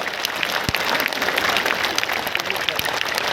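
Sustained applause from an audience at a police and forest guard appointment ceremony, dense steady clapping throughout, with a voice speaking over it.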